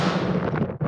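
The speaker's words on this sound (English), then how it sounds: "As the foundation, I use a reverberated explosion sample." A brief reverberated explosion sample, used as the base layer of a fire magic sound effect, booms with a dense, roaring body that trails off into echo within a second.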